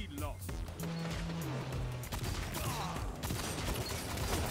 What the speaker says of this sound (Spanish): están bien padres las explosiones